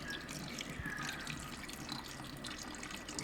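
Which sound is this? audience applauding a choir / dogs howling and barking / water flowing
water flowing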